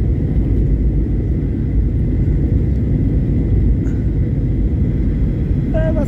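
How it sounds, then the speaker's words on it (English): A Ryanair passenger jet landing, heard from inside the cabin as a loud, constant low engine rumble and roar that holds steady throughout, with no talking. "Apparently this is the worst part of a Ryanair flight, the landing."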